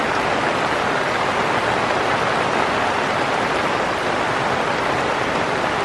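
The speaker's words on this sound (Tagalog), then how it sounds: "Lumakas na ang ulan." Heavy rain pours down steadily at a farm, a loud dense unbroken hiss that fills the whole stretch with no voices over it.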